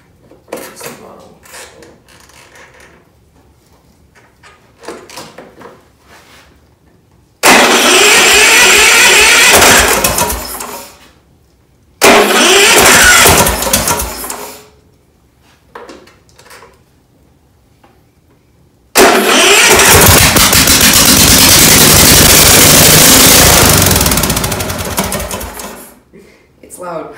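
A small lawn mower engine being repaired starts up and runs in two loud roaring bursts, the second longer, with brief talk and handling noises between them.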